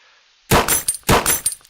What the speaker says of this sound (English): as it breaks the target, there's a sound of like a shatter